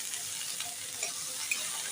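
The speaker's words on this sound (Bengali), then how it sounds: "চলো এগুলো দিয়ে একটু ভাজা ভাজা করি।" Mixed vegetables, including green and white pieces and red tomato, fry in a pan with a soft, steady sizzle and a few light stirring taps, heard alone.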